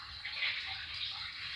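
Water spills and splashes steadily from a leaking sink, a close, continuous hissing rush that swells slightly midway, with no one speaking.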